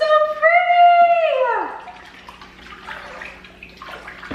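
Water sloshes and swirls as it is stirred in a large container, a loose, close churning that follows a short drawn-out vocal exclamation at the start.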